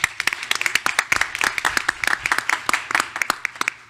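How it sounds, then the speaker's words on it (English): A room of people at a school board meeting claps for award recipients, a brisk run of sharp, overlapping hand claps that stays fairly close and steady throughout. "can we get a round of applause?"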